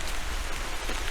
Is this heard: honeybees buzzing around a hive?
no